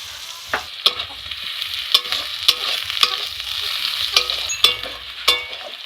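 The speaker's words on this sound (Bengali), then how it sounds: "পেঁয়াজটা একটু ভালো করে ভাজা ভাজা হবে" Chopped onion sizzles in hot oil in a pan, a continuous hiss broken by sharp, regular clinks of a spoon stirring against the metal, close and alone without talk.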